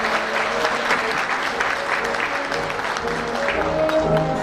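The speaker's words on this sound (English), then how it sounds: "Let's give another round of applause for our future of tomorrow here." Sustained audience applause fills a gala banquet hall, steady dense clapping from a large crowd throughout with a faint murmur of voices beneath.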